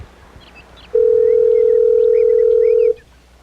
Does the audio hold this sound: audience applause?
no